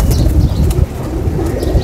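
An old domestic pigeon coos in close, fairly loud bursts, with a rustle like flapping wings mixed in and no talking.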